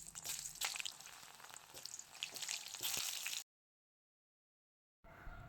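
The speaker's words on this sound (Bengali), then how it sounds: "কড়াইতে তেল গরম করে সামান্য একটু নুন দিয়ে কেটে রাখা আলুগুলো একটু লাল লাল করে" Cut potatoes sprinkled with a little salt fry in hot oil in a wok, giving a faint, continuous crackling sizzle with small pops, broken by a sudden silent gap before the sizzle returns.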